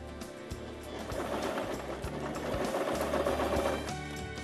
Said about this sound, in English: Adjust your foot or your needle position so that you sew even closer to the piping.